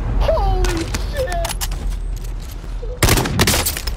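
Rapid gunfire from an SKS rifle in the video game Warzone, sharp shots and bursts crackling near and loud, with a dense volley near the end over game noise.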